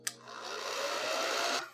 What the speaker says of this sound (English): I'm gonna use my blow dryer here